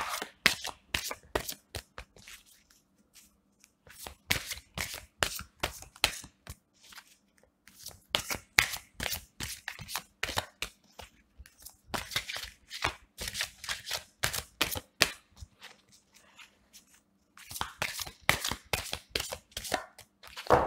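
Tarot cards being shuffled by hand, repeated rapid riffling bursts in several long runs separated by short pauses, close and crisp with no talking.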